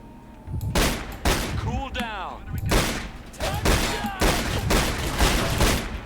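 Pistol gunfire in The Chronicles of Riddick: Escape from Butcher Bay video game, loud repeated shots in a rapid burst with ringing casings and echoes, while someone talks over the action.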